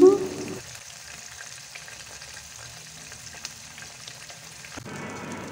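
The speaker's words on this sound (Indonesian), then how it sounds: "Nah ini gorengan ayam berikutnya." Flour-coated chicken breast pieces frying in hot oil, a steady close sizzle and crackle that runs throughout with a louder burst at the start and another near the end.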